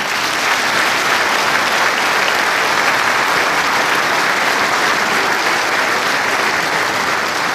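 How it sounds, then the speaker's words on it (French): An audience at a New Year's wishes ceremony applauds the municipal staff, loud, dense clapping from a large crowd, sustained and even throughout with no talking over it. "je vous invite à les applaudir"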